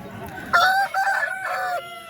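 A rooster at a rooster market in Vijayawada crows once, loud and close, a drawn-out strained call lasting over a second.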